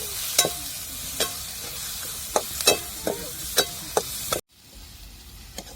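Finely chopped tomatoes sautéing in a pan for village-style puri bhaji, a close sizzle broken by regular scraping stirs and taps of the spoon, then a sudden cut to a quieter bed of frying with one last tap.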